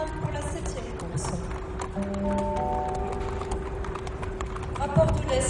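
Racehorses walking with jockeys mounted before a race at a French track, soft clip-clop hoofbeats under steady background hum and tones, with people talking.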